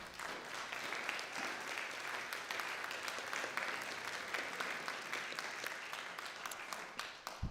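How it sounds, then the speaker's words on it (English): Sustained audience applause at a spiritual gathering honoring a reverend, a steady wash of clapping heard from some distance that holds for several seconds before easing slightly. "Can we give her a round of applause?"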